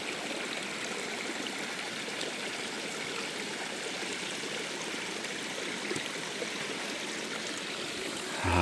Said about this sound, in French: Au bord du cours d'eau.